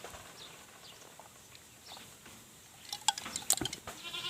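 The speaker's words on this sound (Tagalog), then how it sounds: "Itong mga kambing natin na to, papakita ko sa inyo." Goats on a farm on a very hot day, faint background at first, then several short bleats and rustles cluster toward the end, with no talking.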